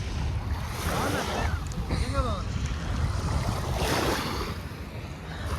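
Waves wash onto a beach in Cleveland, Ohio in a constant rushing surge with heavy wind buffeting the microphone, and a voice briefly rises over the surf.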